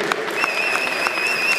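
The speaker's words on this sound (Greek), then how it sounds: "Ένα θερμό χειροκρότημα εδώ για τους δύο αθλητές." Warm applause from a crowd at a fight event honouring two athletes after a drawn bout, steady dense clapping throughout with a whistle-like tone running above it.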